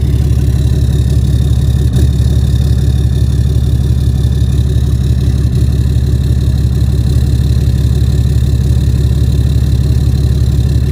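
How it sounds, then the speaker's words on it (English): A 2019 Ford Raptor's engine idles roughly just after a cold start, a loud, steady low rumble with a fast uneven throb running unbroken throughout, close by and with no talking. "Definitely does sound a bit rough though, that cold start."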